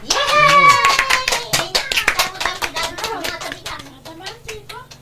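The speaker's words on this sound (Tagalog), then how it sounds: "tinabara palakpak" Loud, close hand clapping, quick and fairly rhythmic, mixed with children's voices talking over it before it thins out.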